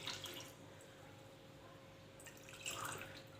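Warm water poured from a glass into a batter mixture for baghrir gives a soft, faint trickle and splash, quiet and close, swelling slightly near the end.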